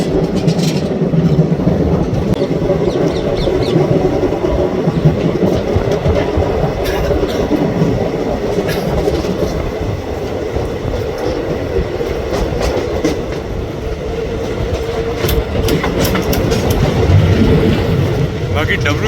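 Mahamana Express passenger train hauled by a WAP4 electric locomotive running on tracks near Delhi, with a steady loud rumble and rattle of the coaches and faint clicks of wheels on rail joints throughout, heard from inside.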